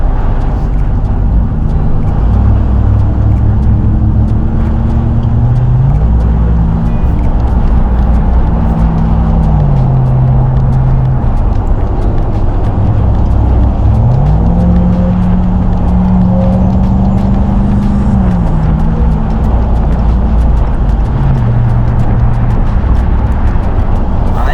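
A 700 hp Dodge RAM TRX pickup cruises along, its engine drone heard from inside the cab and rising and falling in pitch over a constant loud road rumble.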